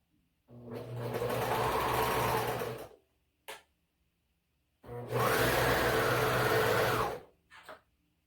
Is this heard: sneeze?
no